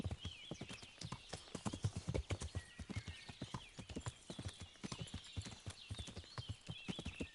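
Steady clip-clop of horse hooves in the video game Kingdom Come: Deliverance, a quick, even rhythm of sharp knocks close by, continuing throughout with no voices.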